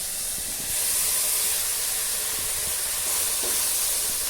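Chopped onion and medium tomatoes sauté in a pan for kothu egg dosa, giving a steady broad hiss and sizzle with faint scraping underneath and no talking.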